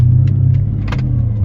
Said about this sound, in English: as I'm driving, but the car sounds really smooth